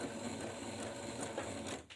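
A sewing machine runs a short, steady line of stitches on a cloth face mask, close and fairly quiet.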